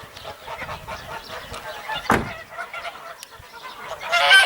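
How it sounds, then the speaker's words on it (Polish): A flock of farm-raised geese honking and cackling in a steady chorus, with one louder, nearer call breaking through near the middle. "Hodowla gęsi."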